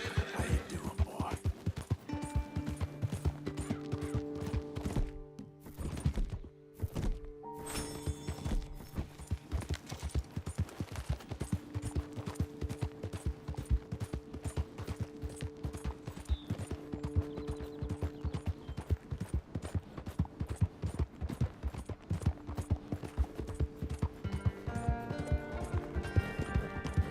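A horse in Red Dead Redemption 2 gallops with rapid, steady clip-clopping hoofbeats throughout, broken by short pauses, while neighs and whinnies ring out over the game's background sounds.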